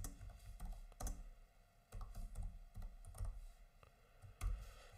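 Someone types code on a computer keyboard in short, uneven bursts of soft key clicks with brief pauses between them, close and quiet.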